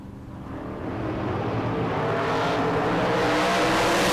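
A 1969 Camaro and an open-topped Corvette launch side by side at a drag strip, engine roar swelling loudly from a distant rumble into a sustained high-power blast.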